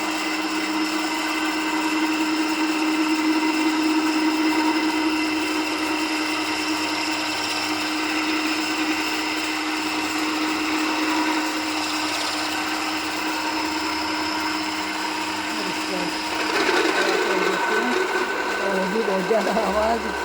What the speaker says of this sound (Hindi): और चक्की जो है चल पड़ी है अभी।